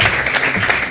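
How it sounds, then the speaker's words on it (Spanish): Studio audience applause on a Spanish television variety show, a steady wash of many hands clapping that carries through the whole second at fairly loud level with no voices. "Bueno, va, aplaudan, aplaudan,"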